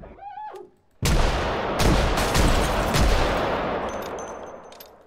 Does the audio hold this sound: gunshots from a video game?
yes